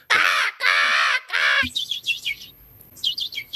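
A voice imitates bird calls: three loud harsh caws like a crow, followed by a run of quick high chirps like a sparrow.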